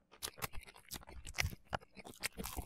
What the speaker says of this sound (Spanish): Me está poniendo un poco nervioso el sonido de escuchar cómo mastica